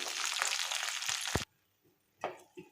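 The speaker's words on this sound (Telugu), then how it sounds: "ఈ మిర్చిని ఇలా ఫ్రై చేస్తూ ఉండాలి" Ripe red chillies frying in a pan for a tomato chutney, a loud close hiss for over a second that cuts off abruptly into quiet, followed by a couple of soft clinks.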